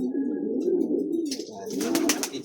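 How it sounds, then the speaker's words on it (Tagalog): Imported Taiwan pigeons coo close by, a low soft rolling coo that repeats and swells, with a brief higher chirp near the end and no talk. "Andito na yung ating mga Taiwan bird oh."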